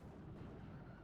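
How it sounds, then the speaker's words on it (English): Mortar explosions in a video game, heavy dense rumbling barrage of blasts rolling continuously and loudly without pause, no voices over it. "mortar explosions coming in"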